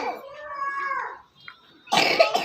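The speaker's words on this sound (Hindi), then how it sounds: "इनके देखो भी खांस रही है" A young girl coughs in a rural home setting, heard after a stretch of voiced sound, a short loud burst of coughs close by near the end.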